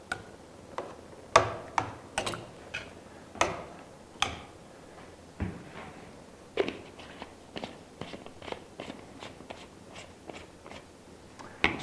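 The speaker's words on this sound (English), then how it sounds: "I keep chopping these tomatoes into smaller chunks." A knife chops tomatoes into smaller chunks on a cutting board, sounding as irregular sharp taps, some sparse and some in quick runs, close and fairly quiet with no talking.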